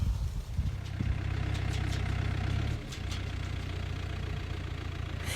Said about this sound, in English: The farmer drives a bin loader on the front of his tractor